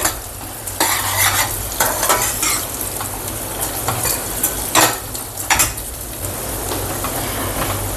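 Peanuts fry in a hot pan, sizzling steadily while a utensil stirs them with repeated scraping, clattering strokes.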